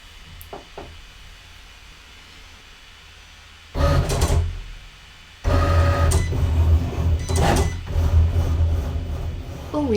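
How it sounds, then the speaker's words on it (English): A Cricut cutting machine cuts cardstock, running with a mechanical whirring and clatter after a quiet start, pausing briefly, then resuming steadily. "we load it into the machine ready to cut"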